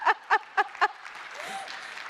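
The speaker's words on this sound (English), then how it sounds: "You can clap." Keynote audience at a marketing symposium claps four loud beats in unison at a steady rhythm, then fades into soft scattered clapping as a voice briefly sounds.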